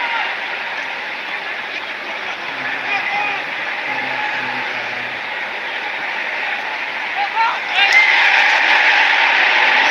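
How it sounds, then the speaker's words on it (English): A large football crowd at an East Bengal match gives off a continuous, dense roar of massed voices that holds steady and then swells louder near the end. "you can hear the groans from the crowd"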